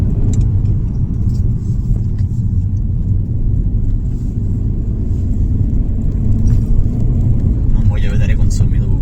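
A Ford Focus MK4 ST Line 1.0 mild hybrid, 125 hp, heard from inside as it climbs a steep hill, with a steady low engine and road rumble that holds even throughout, no talk over it.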